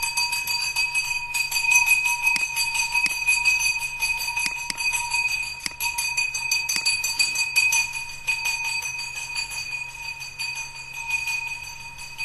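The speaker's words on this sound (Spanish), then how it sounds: "pasó la campana de la basura" A garbage collection truck's bell rings through the street outside, a steady tinkling chime with a few sharper strikes, moderately loud and continuous for the whole stretch, with no talking over it.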